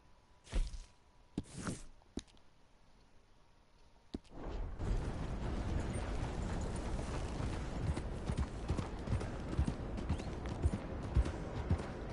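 Horse hooves clip-clop in the video game Red Dead Redemption, a few isolated hoof strikes at first, then a steady, faster rhythm of trotting over a continuous rumble of movement.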